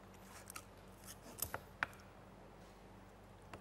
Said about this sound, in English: And his tail we also cut off.